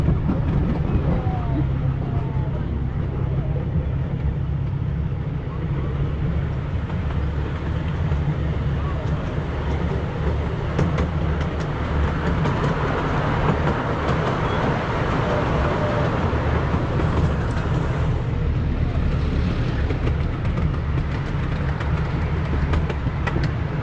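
Steady low rumble and clatter of a small amusement park train rolling along tracks, continuous and close, with faint voices in the background.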